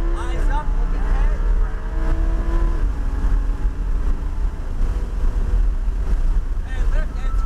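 Lamborghini Huracan pushed at full throttle down a Dominion Raceway straight, a steady loud engine roar with rising harmonics and heavy wind rush, with a voice talking over it.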